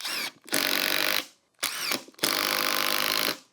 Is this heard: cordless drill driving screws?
yes